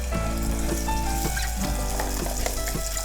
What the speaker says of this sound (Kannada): ಮಸಾಲೆನೇ ಇದಕ್ಕೆ ಹಾಕ್ಕೊಳ್ಳೋಣ. ಇವಾಗ ಎಣ್ಣೆ ಕಾದಿದೆ.